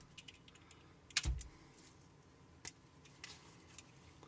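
Scissors snip the sealed tip off a small GluStitch skin adhesive tube, one sharp faint cut with a brief rustle in an otherwise quiet room.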